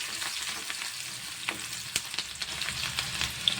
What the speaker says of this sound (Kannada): ಈರುಳ್ಳಿ ಎಣ್ಣೆ ಒಳಗೆ ಎಷ್ಟು ಚೆಂದ ಫ್ರೈ ಆಗ್ತದಲ್ರಿ